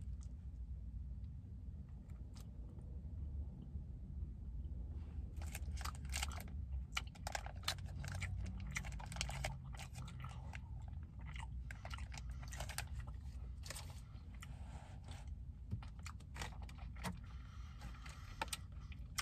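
Someone chewing a pecan Snickers bar up close: faint, irregular crunchy bites and chewing clicks over a low background rumble, alone without talking.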